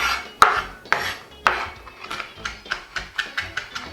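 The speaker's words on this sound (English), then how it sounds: "Remember, as you chop, you bring it in. And then just keep chopping." Knife chopping Scotch bonnet peppers on a board in a home kitchen, a steady run of sharp, close taps that speed up into a quick even rhythm.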